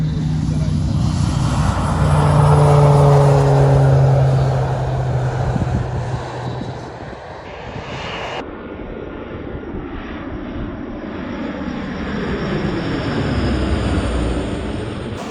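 An agricultural airplane makes a low spreading pass to sow cover crop seed at a swath-pattern testing clinic in Iowa. Its propeller engine roars loudly as it sweeps overhead, then fades into a steady distant drone with some speech underneath.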